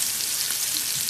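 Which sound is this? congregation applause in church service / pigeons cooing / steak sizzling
steak sizzling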